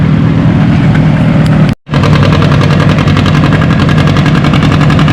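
A John Deere 50 tractor pulls a sled on a rain-soaked clay track at a spring tractor pull. Its loud engine pounds with rapid, steady firing pulses, cuts out for a split second, then roars back at full strength.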